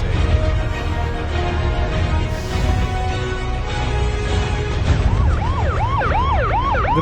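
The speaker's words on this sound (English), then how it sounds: "The police sirens." A police car siren wails loudly in rising and falling sweeps that grow stronger toward the end, over a dense rumble of traffic and engine noise, with no talk.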